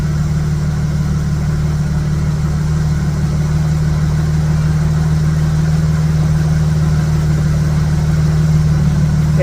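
A Dodge engine fitted with a Stromberg BXVES-3 carburetor idles steadily, giving a smooth, continuous low rumble with a constant hum. The sound holds close and even throughout, with no talk over it.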